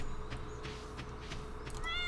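A cat meows a few times in the video game Stardew Valley, the soft calls sitting over a steady game background hum.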